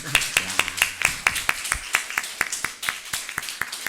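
Middle and high school students clap at a church sermon, about a dozen distinct sharp claps in an irregular rhythm, fairly near, with a murmur of voices underneath.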